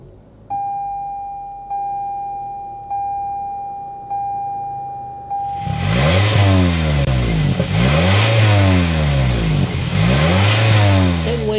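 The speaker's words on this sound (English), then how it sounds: "start it up so you can hear that exhaust" A 2024 Toyota Camry XLE chimes several times before its four-cylinder engine starts, then revs repeatedly, its exhaust rising and falling in loud, close roars.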